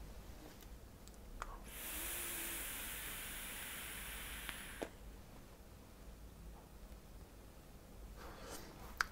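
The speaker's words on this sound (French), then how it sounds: "On l'entend, hein. Belle production de vapeur. Je l'ai augmenté un petit peu, je suis passé à 28 watts." A GeekVape Avocado vape firing at 28 watts gives a faint, steady hiss of vapour production lasting about three seconds, close by and otherwise quiet.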